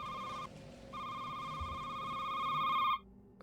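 Telephone ringing in the store setting of the horror game Shift at Midnight, a loud electronic ring in two bursts with a short pause between, cutting off abruptly near the end, no talk.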